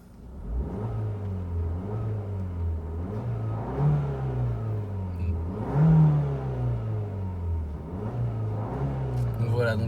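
Fiat 500 Abarth 135 hp with a stock exhaust, heard from inside the cabin with the windows shut: the engine is revved repeatedly, each rev rising then dropping back over a steady droning hum.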